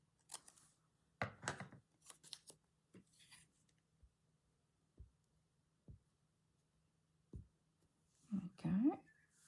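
Small scissors snipping little paper pages for a stitched snippets journal, a few quiet close cuts separated by pauses, with soft whispered talk and a low hum in the background.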